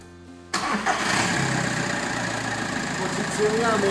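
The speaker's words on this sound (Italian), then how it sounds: "Ora metteremo in moto la macchina." A diesel car engine cranks and catches abruptly after a quiet moment, then settles into a steady, rumbling idle that continues to the end.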